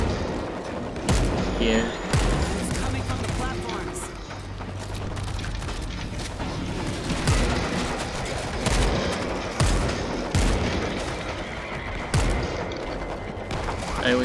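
Rapid bursts of gunfire and shotgun blasts from a World War Z zombie shooter set in New York, loud and dense with mechanical clatter, while a voice speaks over the action.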